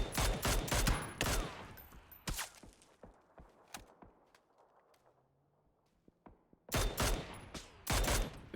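Long-range gunfire in the PUBG battle royale game: clusters of loud sharp shots open and close the stretch, with scattered single distant cracks echoing through a quieter middle section.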